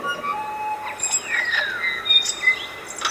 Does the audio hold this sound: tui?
yes